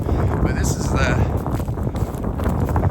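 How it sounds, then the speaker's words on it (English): Wind gusting across an exposed mountain gap along a scenic drive crossing, a steady broadband rush buffeting the microphone throughout. "I don't know if you can hear me because it's kind of windy up here"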